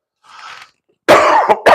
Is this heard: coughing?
yes